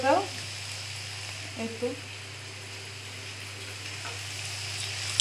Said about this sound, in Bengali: ওই পিঠাটা ভেজে নিব তেলের মধ্যে